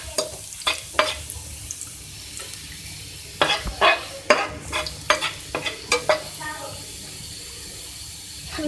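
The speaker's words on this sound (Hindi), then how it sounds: "अब ऑयल में सबसे पहले मैं ऐड करूँगी 1 टेबलस्पून चॉप लहसुन। इसको फ्राई करूँगी।" A tablespoon of chopped garlic frying in oil crackles in the pan, broken by sharp scraping stirs and clatters in quick clusters against a low sizzle, close by.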